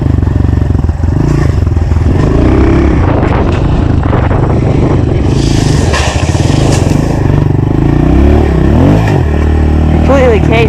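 85cc pit bike ridden on a dirt bike track, engine revving and bogging with rattling clatter, loud and close, with a voice talking over parts of it.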